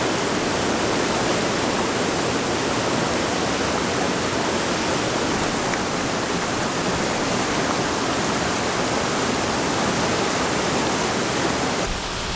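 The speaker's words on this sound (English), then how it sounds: "That beautiful waterfall behind me is formed by a glacier melting higher up in the mountain." Steady, loud rush of a glacier-fed mountain waterfall, a dense continuous roar of falling water held at even volume throughout, with no voices.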